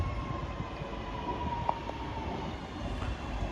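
West Midlands Railway train pulling into a station on a service to Bromsgrove via Birmingham New Street, a steady low rumble with a faint whine and one brief squeal, no voices.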